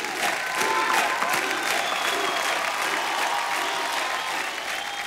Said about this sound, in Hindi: जोरदार तालियां हो जाए विवेक के लिए।